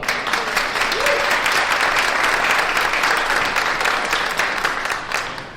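Sustained audience applause after an acting-for-the-camera showcase, dense steady clapping filling the whole stretch from start to finish, loud and close with a slight fade at the end.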